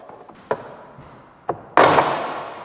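Plastic clips on an Abarth car door card pop loose as the panel is pried off, giving two sharp taps followed by a louder snapping crack with a brief rattling decay.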